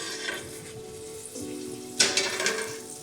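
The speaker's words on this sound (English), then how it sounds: "we're gonna let those onions saute until they become a little more translucent" Chopped onions sautéing in a pan for chicken tikka masala, a quiet steady sizzle with a brief clatter of a utensil stirring partway through, close by and without talk.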